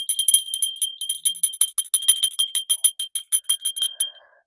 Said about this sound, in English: Okay, I am going to ring this bell. It says ring for luck.